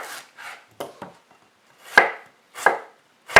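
An onion is being cut with a knife on a board, giving a few separate close chopping strokes, some soft and some sharp, spaced by short pauses in an otherwise quiet room.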